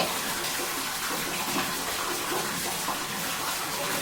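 Water pours steadily while a child is bathed, a continuous close splashing gush without pause.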